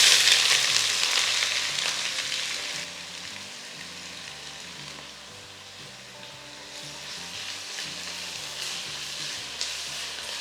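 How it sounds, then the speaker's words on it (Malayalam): Four sliced onions, about 400 g, fry in half a cup of hot oil for a Lucknowi chicken biryani, giving a steady close sizzle with occasional stirring and no talk. "ഇവിടെ എണ്ണ ചൂടാകുമ്പോൾ നമുക്കിതിലേക്ക് ഒരു 4 സവോള സ്ലൈസ് ചെയ്തത് വറുത്തെടുക്കാം"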